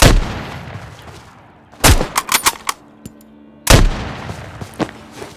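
Heavy gunfire in a video game arrives as two loud clusters of sharp, close shots, each volley opening with a big blast followed by quick rapid pops. Quieter gaps fall between the clusters.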